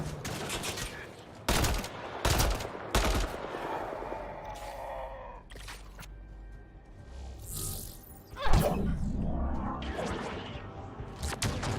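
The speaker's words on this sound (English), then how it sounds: "Shooting." Gunfire in the video game Mass Effect: Andromeda, with loud, sharp bursts of shots repeating in irregular volleys, mixed with whooshes and impacts.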